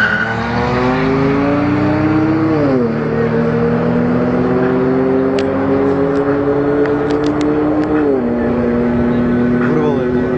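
BMW 335i E90 with Evotech stage 2 tune and Mercedes SL55 AMG Kompressor launching together from a standing start, loud engines revving hard and climbing through gear shifts, with people talking faintly underneath.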